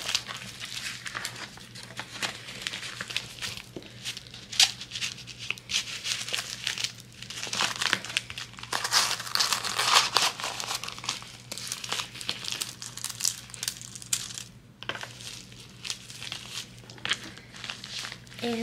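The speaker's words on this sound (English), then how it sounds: "And then we're gonna put both of these into her mailing envelope." Plastic packaging crinkling and rustling up close as handmade clay bead bracelets are slipped into a mailing envelope, with irregular crackles and rustles running throughout.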